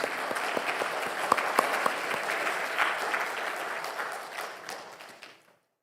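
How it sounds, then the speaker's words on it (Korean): Korean church congregation gives a sustained round of applause at a year-end Sunday service, dense clapping from many hands that holds steady and then fades out to silence. "하나님께 먼저 감사와 영광의 박수를 올려드리겠습니다"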